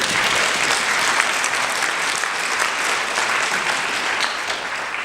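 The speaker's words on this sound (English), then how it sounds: "Now, I thank you for the applause." Dense, loud audience applause at a Toastmasters panel discussion, an even wash of many hands clapping without pause for the full span, no voices over it.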